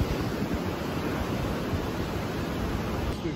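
Ocean waves break steadily on the Oregon coast at low tide, a dense continuous roar of surf with no voices.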